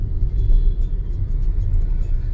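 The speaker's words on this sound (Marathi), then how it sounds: "मुंबई शहर आणि ट्रॅफिक यांचं अतूट नातं आहे" Road traffic in Mumbai, a continuous deep rumble of cars and engines close by, steady and loud with no pauses.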